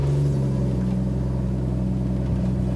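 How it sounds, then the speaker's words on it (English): A Rolls Royce Ghost fitted with a Novitec valve exhaust idles with a steady, deep low rumble, close and continuous throughout, with no voices over it. "We've installed a Novitec valve exhaust."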